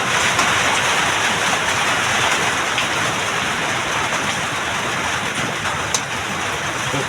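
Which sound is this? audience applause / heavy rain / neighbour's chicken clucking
heavy rain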